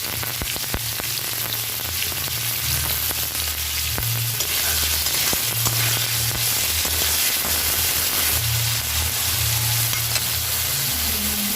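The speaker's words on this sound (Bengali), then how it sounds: "এই তেলে আলুটা ফ্রাই করে আনবো" Potato pieces fry in hot oil with a constant, close crackling sizzle, while a low droning hum runs underneath in uneven bursts throughout.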